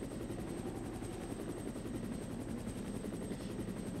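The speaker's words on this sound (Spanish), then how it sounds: "tenemos acá el helicóptero que está llegando" Helicopter arriving in the Resident Evil 1 PlayStation video game, a loud continuous rotor chop with steady rhythmic thumping that fills the whole stretch without any voices.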